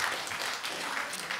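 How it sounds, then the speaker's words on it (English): An audience in a parliamentary debate chamber breaks into brief, steady applause: a dense wash of many hands clapping, heard moderately loud and without pause. "You're supposed to clap at that."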